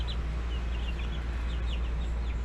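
Baby chicks in a coop, kept apart from the ducks, give faint scattered high peeps over a steady low hum throughout.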